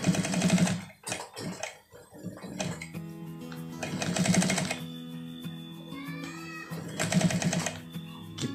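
A sewing machine stitches a flapped welt pocket on a jacket in three short bursts of rapid rattling, separated by quieter pauses as the fabric is adjusted.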